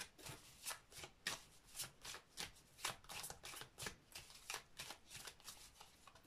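Tarot cards are shuffled for a reading, close and quiet, a rapid string of soft riffling flutters repeating in an even rhythm with no talk.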